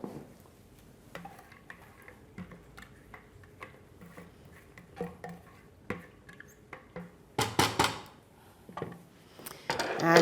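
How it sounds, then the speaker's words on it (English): Seville orange peel is dropped into liquid in a pan, a series of soft clinks, taps and small splashes scattered irregularly, close and quiet, with a louder cluster of clatter toward the end. "we're going to add the peel to the liquid"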